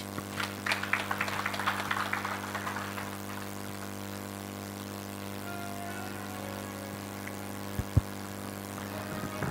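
An audience claps at the close of a public lecture: a brief burst of applause during the first few seconds thins out and fades, leaving a steady electrical hum in a quiet hall.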